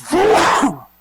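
A single sneeze bursts out during a city council session, lasting under a second, fairly loud and close, then drops to near silence.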